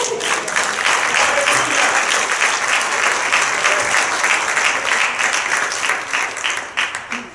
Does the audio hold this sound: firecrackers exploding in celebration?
no